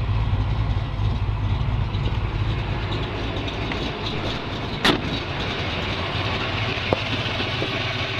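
A 1955 Chevrolet 210 with a Holley 4-barrel carburetor on a Victor Jr. intake runs steadily, its engine a continuous low rumble close by, with a sharp click midway and another faint tick near the end, no voices.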